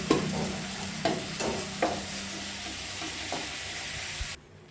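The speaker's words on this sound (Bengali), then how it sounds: "এই দেখুন আমার মাছগুলো ভাজা হয়ে এসছে।" Fish pieces fry in a wok of mustard oil, a continuous close sizzle broken by several sharp knocks and scrapes of a spatula as the pieces are turned and lifted out.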